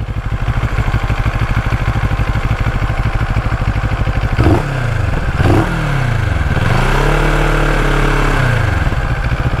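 A 6.5 cc motorcycle engine idles with a rapid, even putter, then revs up in a few rising and falling surges, loud and close.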